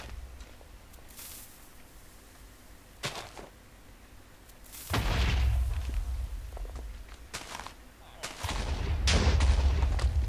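Explosions and sharp blasts from the Minecraft video game, with several abrupt bangs followed by loud rumbling bursts, heard alongside game sounds and occasional faint talking.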